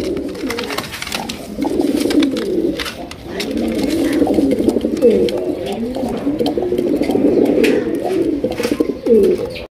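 A large Black Lakha pigeon coos in deep, rolling throaty phrases, loud and close, repeated steadily with faint rustling and chirps from other birds around it.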